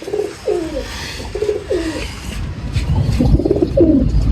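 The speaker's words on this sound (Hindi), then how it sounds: "क्या बात है, कबूतर है।" A pigeon coos repeatedly up close, soft rolling calls in short bursts, with a low background rumble.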